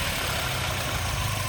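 A Mercedes C63 AMG four-cylinder engine idles steadily with a low, even rumble, close by and continuous with no talking.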